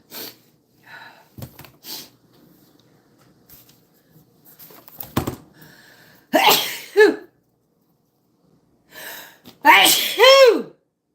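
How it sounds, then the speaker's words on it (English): Two loud, close sneezes a few seconds apart, preceded by quiet talking and small handling noises. "I'm going to sneeze."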